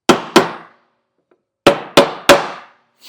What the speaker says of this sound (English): I'm going to go ahead and finish off hammering the top, or the bottom